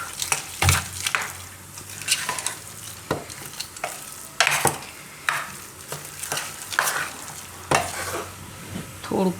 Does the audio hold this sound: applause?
no